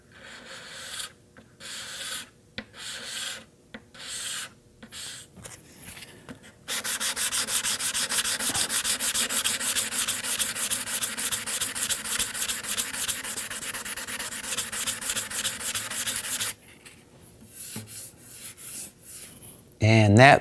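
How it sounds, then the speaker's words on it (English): Wet sanding a guitar's lacquer finish by hand: a steady, close rasping rub that runs continuously for about ten seconds, framed by quieter, intermittent short strokes before and after. "When all the squeakiness is gone or the squeaky stuff stops, you're done, and then you can continue on sanding."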